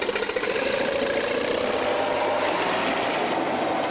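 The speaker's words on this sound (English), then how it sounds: "rev up the engine and ride a classic like a 1973 John Deere" Steady engine of a 1973 John Deere snowmobile running loud and close, a dense continuous drone with slight roughness and no clear rise in revs, with no talk.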